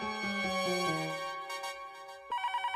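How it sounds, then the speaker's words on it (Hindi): A telephone ringtone plays in a household scene from the Hindi TV comedy Taarak Mehta Ka Ooltah Chashmah: a stepped electronic melody, then a burst of quick repeating beeps, clear and alone. "सीएडी भाई का फोन है"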